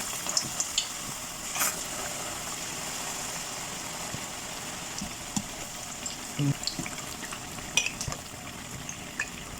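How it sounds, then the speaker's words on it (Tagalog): Steady crackling sizzle of pumpkin frying in a pan, continuous and close, with occasional faint clinks and bumps. "So, ipa-fry na natin siya."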